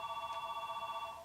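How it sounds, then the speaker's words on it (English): A mother's phone rings quietly in a room during the unboxing of a jammed silver Shin-Shirasuna SR8000-L cassette player, giving a steady electronic tone with a soft pulsing warble and no talking over it. "that's Mom's phone."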